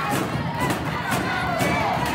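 A wrestling event crowd cheers and shouts loudly as a match builds toward its finish, a continuous roar with a few sharp bursts and thuds within it.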